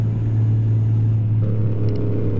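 A deep, steady rumble from a Kenworth W900 truck's 1088 hp Cummins engine idles close by, low and continuous throughout.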